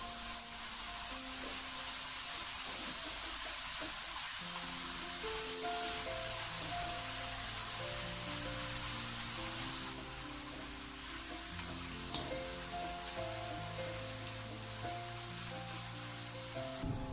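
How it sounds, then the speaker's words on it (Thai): Potato pieces deep-fry a second time in hot oil, giving a steady, soft hiss that runs throughout beneath a bed of background music. "น้ำมันร้อนได้ที่แล้วนะคะนำมันฝรั่งไปทอดรอบ2ค่ะใส่ลงไปเลยค่ะ"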